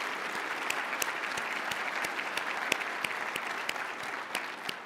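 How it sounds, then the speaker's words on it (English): An audience at a port of Los Angeles state-of-the-port event applauds steadily, with dense clapping filling the whole stretch, a few sharper individual claps standing out, no talking over it. "If we could give them all a round of applause."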